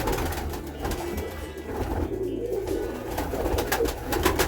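Pigeons in a winter dovecote cooing close by, with soft repeated throaty coos over a low rumbling background. No one speaks.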